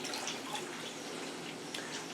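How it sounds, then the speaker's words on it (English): Chicken broth pours into a can in a soft, continuous liquid trickle, faint and steady with a few small splashes near the end. "Pour your chicken broth"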